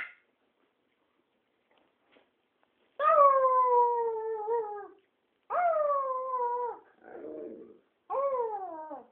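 A dog howls in three long, drawn-out wails separated by short pauses, close and clear against an otherwise silent background, with a low whimper between the second and third howls.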